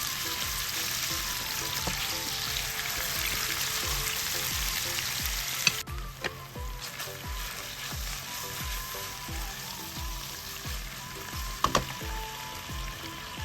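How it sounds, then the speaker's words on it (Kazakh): Meat sizzles steadily in a hot pan on a Kazakh home stove for a salad, with a dense frying hiss throughout and a few light utensil knocks and scrapes; no one speaks. "Үстіне етімізді салып, жібергенше жақсылап қуырып алатын боламыз."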